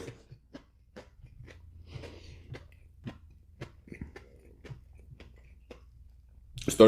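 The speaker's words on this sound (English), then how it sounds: "Wait till you're done chewing and eating your food" Chewing and crunching on Mary Brown's Big Mary chicken sandwich during a mukbang, a regular series of close, sharp bites and munches against near silence, ending with a brief louder burst.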